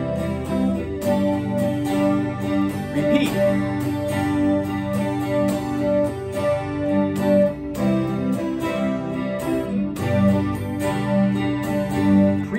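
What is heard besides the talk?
guitar strumming the song's verse chords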